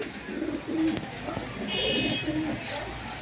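Pouter pigeons, including a blue check bird, give low throaty coos in short repeated phrases, close and moderately loud, with a faint high tone in the background.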